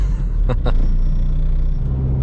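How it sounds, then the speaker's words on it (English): A car lapping the Nürburgring hums with a steady, loud engine and road rumble from inside the cabin, sustained throughout with a couple of brief higher whooshes early on and no talk. "I just did a lap just to see how the track is, to warm up the car as well"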